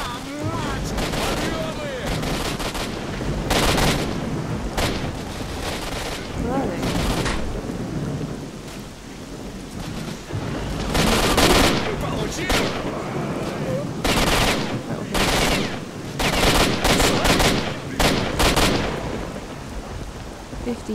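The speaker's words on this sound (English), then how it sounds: "Shots." Gunfire in the game S.T.A.L.K.E.R. Shadow of Chernobyl, loud bursts of shots repeating in irregular volleys across the whole stretch, dense and booming, with a voice speaking in places.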